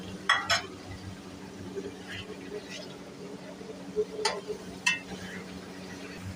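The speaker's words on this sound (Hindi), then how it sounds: "अभी जी डालने लगे हैं कीमा, बॉईल करके रखा हुआ था। इसको अच्छी तरह से भून लेंगे।" Boiled minced keema being fried in a pan for kimay wale chawal, with a steady low sizzle and the occasional clink of a spoon against the pan.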